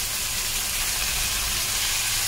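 Vegetables and noodles with soy chunks fry in a hot pan, giving a steady, loud, unbroken sizzle and hiss with no pauses and no talk.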